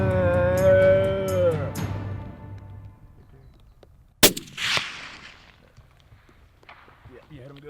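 A single sharp rifle shot rings out during a red stag hunt in New Zealand's South Island, a loud crack in the middle followed by fading echo, with hushed voices talking before and after.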